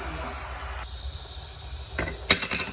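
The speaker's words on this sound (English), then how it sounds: "just turn this dial to make sure you release the whole steam completely" Steady broadband hiss of steam escaping a pressure cooker as the valve is released, cutting down partway through, then a few sharp clicks near the end, close and alone.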